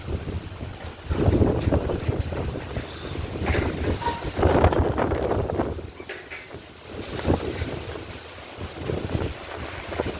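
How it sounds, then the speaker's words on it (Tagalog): Strong gusty wind of Typhoon Kristine roars and buffets the microphone in heavy surges, rising and falling over several seconds with no talk. "Lakas ng hangin"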